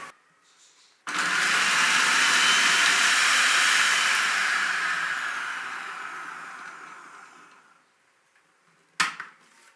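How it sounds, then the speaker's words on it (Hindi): An electric chopper whirs loudly for about eight seconds, chopping mint leaves, green chilies and coriander for seekh kebab mix, the motor winding down before a short rattle at the end. "अब इसको बंद करेंगे और पहले इन चीज़ों को चॉप करेंगे"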